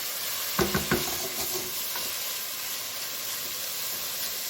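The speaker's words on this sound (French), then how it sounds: "je vais mouiller avec mon vin blanc" Risotto rice deglazed with white wine sizzles and hisses steadily in the pan, with a few sharp clinks and scraping stir strokes near the start over continuous frying noise.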